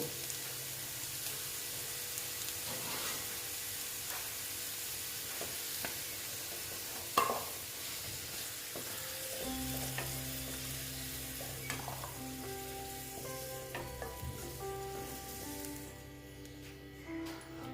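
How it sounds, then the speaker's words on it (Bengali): Potato pieces fry in hot oil in a home kitchen, a steady broadband sizzle with occasional stirring clinks and scrapes, easing toward the end as the frying finishes. "আলুটা আমি ভেজে নিচ্ছি"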